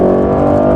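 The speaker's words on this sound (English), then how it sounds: "on the throttle, you hear the little burbles and downshifts" A 2021 Mercedes-AMG GT Roadster Stealth Edition exhaust sounds close and loud, a strong burbling engine note with rich low harmonics holding steady as it pulls away from a roundabout on throttle.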